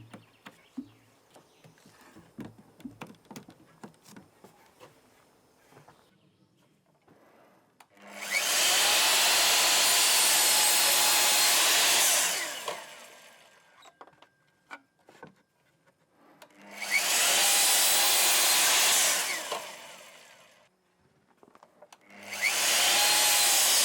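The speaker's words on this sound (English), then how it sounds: "Bosch miter saw to the power station, and I think the miter saw has a motor 1600 watts" A Bosch 1600-watt miter saw powered from a portable power station cuts wood in three loud, close bursts, each a whining motor roar with a blade bite, separated by quiet stretches holding faint handling noises.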